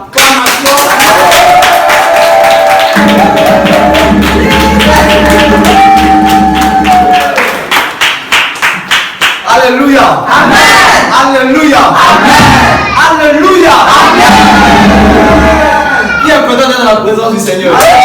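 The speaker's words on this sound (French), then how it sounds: "le pasteur Jean-Pierre Philippe, sous vos acclamations." Church congregation loudly cheering and shouting acclamations for the pastor, a dense roaring crowd with whoops and rhythmic clapping, music and voices swelling throughout at close range.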